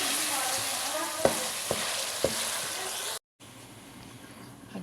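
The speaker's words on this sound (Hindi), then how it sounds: "यहाँ साथ साथ मैंने जल्दी से चिकन की फ्राई कर लिया" Chicken pieces sizzle and crackle while frying in a pan, with a few sharp clicks of a utensil stirring, then a brief gap before quieter frying continues.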